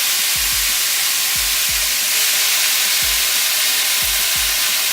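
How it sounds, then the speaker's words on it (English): Steady loud sizzling of thinly sliced beef bulgogi stir-frying in a pan, a constant hiss with periodic low clunks or taps roughly once a second. "I can hear the sizzling sound."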